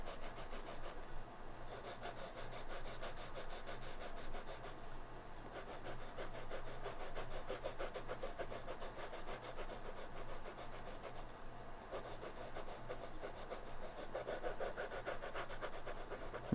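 A Koh-I-Noor Magic multicoloured pencil scratches across paper in a steady, close, continuous rubbing scrawl, with brief pauses between strokes and no talking.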